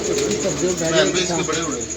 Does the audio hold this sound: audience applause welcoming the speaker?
no